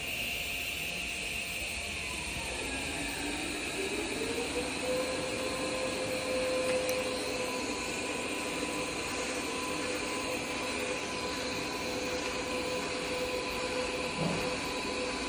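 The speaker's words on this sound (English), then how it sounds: "All right, so now we've gone ahead and started our weld." An AMI 227 power supply runs an M79 orbital weld head through a weld, producing a steady electrical hum and whine with a tone that rises and holds, continuous and even throughout.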